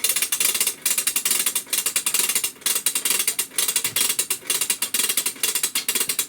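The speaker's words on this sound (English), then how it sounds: "Hold it in place Okay. and start giving it a crank." A wind-up 1963 Ideal Beverly Hillbillies toy car is cranked, giving a loud, steady stream of fast ratcheting clicks from its spring mechanism, close up and continuous with no talk.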